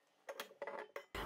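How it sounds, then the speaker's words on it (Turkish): A metal pot of syrup for baklava is set down on a stovetop, giving several quick, quiet clanks and clinks in a row, with no one speaking. "şerbetimi ocağa alıyorum."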